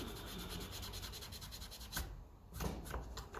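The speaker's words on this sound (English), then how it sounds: "Scotch-Brite won't do it, and we'll just remove any of the scum off" Scotch-Brite pad rubbed on a metal part to clear off scum, a faint close scrubbing rasp in quick repeated back-and-forth strokes.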